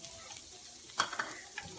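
Finely chopped ginger sizzles in hot oil in a pan while being stirred, a steady close frying hiss broken by a few soft spoon scrapes, with no talk.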